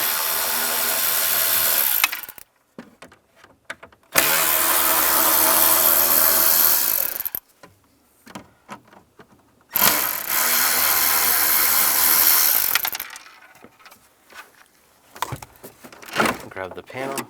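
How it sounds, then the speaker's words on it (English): A power driver with a T20 socket backs screws out of a 1999-2005 Volkswagen Jetta dash trim panel, giving two long, loud whirring bursts separated by quieter handling noises and brief talk. "Then take these 3 screws out."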